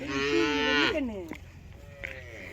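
A young four-tooth bull moos close by, one long loud bellowing call followed by a shorter, softer low moo, with no voices.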